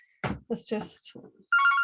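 A mobile phone ringtone chimes in with a steady bright electronic tone during a council scrutiny committee meeting, starting abruptly right after a man's brief speech and continuing loudly.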